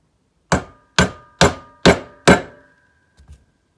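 Five sharp metallic taps, evenly spaced about half a second apart, as a 14mm socket is struck to drive an engine seal into place on a Honda ATC 200X bottom end, each ringing briefly before two faint knocks follow.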